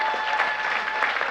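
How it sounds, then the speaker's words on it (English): An audience at a Torrance city council meeting claps steadily for a 15U Babe Ruth youth baseball all-star team, a dense, even patter of applause that fills the room. "Let's give them a round of applause for our Torrance Babe Ruth 15U All-Star team."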